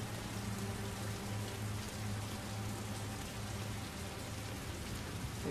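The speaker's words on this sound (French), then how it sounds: "il pleut beaucoup" Heavy rain falls in a steady, dense, even roar that stays at the same loudness throughout, with no voices.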